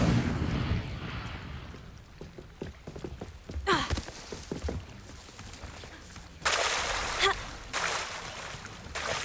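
Fire spell Incendio cast in Hogwarts Legacy, with crackling bursts and roaring whooshes of flame in several surges, loud and close, mixed with game effects and rumbling, no talking over it.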